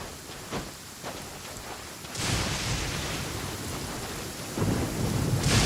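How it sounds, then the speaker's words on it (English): A thunderstorm in the video game Genshin Impact: steady rain hiss runs throughout, with loud rolling thunder crashes breaking in twice, near and heavy. "The lightning is just as dangerous as the enemies up ahead."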